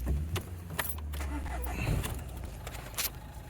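A car engine is started during a DPF cleaning job, with a jangle of keys and clicks followed by a low engine rumble settling in nearby, while a voice is heard briefly.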